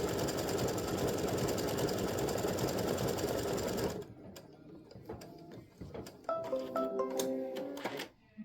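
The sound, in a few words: sewing machine stitching fabric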